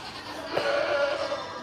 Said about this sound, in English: The new goat.